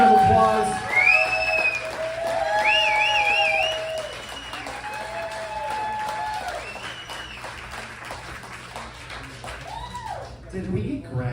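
Applause and cheering from an audience at a political event, with whoops and shouts over a steady clatter of clapping, and a voice talking over it throughout.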